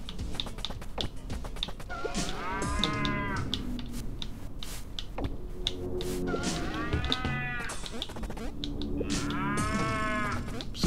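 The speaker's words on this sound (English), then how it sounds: "This cow's annoying." Cartoonish cow moos from the video game Pizza Tower, three long wavering calls repeating over a busy, steady game soundtrack with tapping sound effects.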